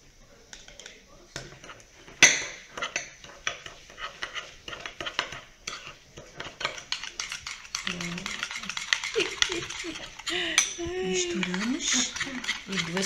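Sugar and milk stirred together for a cake icing, a spoon scraping and clinking against a bowl in irregular bursts while people talk throughout.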